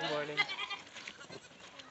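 Goats bleat on a mountain goat farm near Asheville, North Carolina, a loud harmonic call opening the moment, then people talk over fainter animal and farmyard sounds.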